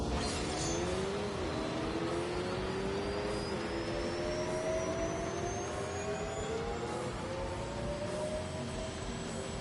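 A Rimac electric hypercar accelerates hard in thrust mode, giving a steady, loud rising whine that climbs in pitch over a constant roar of wind and road noise, with no voices.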